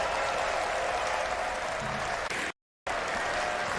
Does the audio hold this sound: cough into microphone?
no